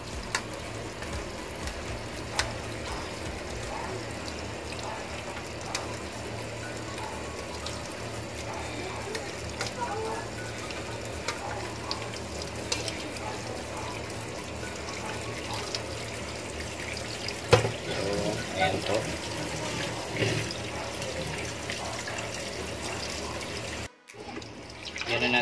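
Water runs steadily from a tap into a pot for cooking noodles in a home kitchen, a constant splashing wash at moderate level with a brief drop-off near the end.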